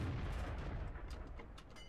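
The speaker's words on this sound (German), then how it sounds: "Die Artis halten auch schon ordentlich rein." Distant artillery rumbling in World of Tanks, a steady low booming wash with scattered faint cracks of shell impacts, fairly quiet and without speech.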